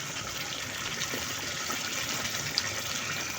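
Gravy for a roast going into hot oil in a pan, a steady broad sizzle and hiss that holds evenly at a moderate level with one small pop near the end.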